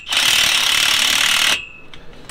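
A power tool whirs loudly and steadily for about a second and a half while tightening a nut onto a carriage bolt for Sumo Springs on a vehicle, then stops abruptly, followed by a few faint clicks.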